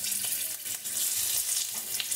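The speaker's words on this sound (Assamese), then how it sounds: "তেজপাত দুটা দিলোঁ" Two bay leaves hiss and crackle in hot oil in a wok, a steady close sizzle holding throughout with a few brighter pops and no voices.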